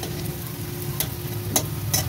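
Fritters for a gourd dish sizzle steadily in oil, with a few sharp clicks and scrapes as they are flipped in the pan. The sound is close and no one speaks.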